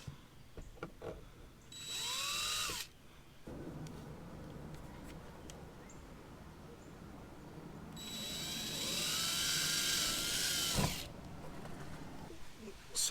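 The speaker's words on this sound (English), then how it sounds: "I just drilled a bunch of 5/32 drill size holes" Power drill boring 5/32 holes into a plastic aero kit piece for a Subaru BRZ, two long whining bursts a few seconds apart, close and loud, with a lower rumble in between.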